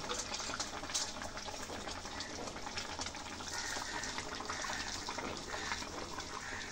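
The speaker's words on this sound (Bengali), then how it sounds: "মাছটা উতলাতে শুরু করেছে।" Rohu fish dopeyaja simmering in a pan, a steady dense bubbling and gentle boiling hiss that runs unbroken throughout, close and moderately loud, with no talking.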